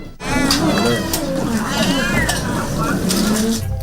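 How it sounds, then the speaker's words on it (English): Many cats meowing and wailing together at a home sheltering hundreds of cats, a dense overlapping chorus of close, loud cries. "These cats call this place home."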